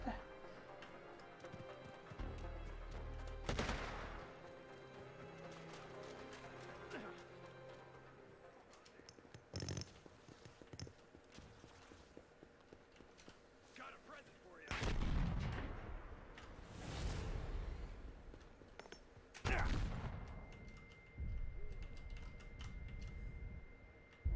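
Grenade explosions and gunfire in the game Predator: Hunting Grounds, with several heavy booms spread through the stretch alongside lighter ticking and shots.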